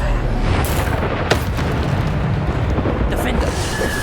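A Bombarda spell in Hogwarts Legacy gameplay bursts with a booming blast, a sharp crack leading into a sustained rumbling roar that holds loud throughout.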